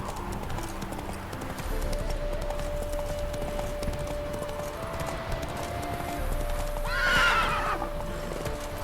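A herd of wild horses gallops in The Witcher 3, a steady clatter of hooves beneath a held tone, and a sharp whinny rises clearly near the end.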